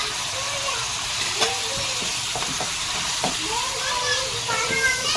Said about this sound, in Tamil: இஞ்சி பூண்டை போட்டு நல்லா வதக்கிடுவோம்.